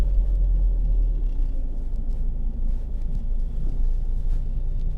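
A car driving in Italy in November, a loud, steady low rumble of engine and road noise heard from inside the cabin, continuous without breaks.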